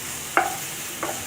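A spatula stirs a chapati noodle mixture in a pan, making two brief scraping strokes over a faint, steady background hiss.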